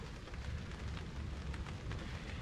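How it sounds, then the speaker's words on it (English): Rain falling on a tarp shelter at a wooded camp, a dense, even patter with scattered sharper drops, fairly close and steady throughout. "It is starting to rain."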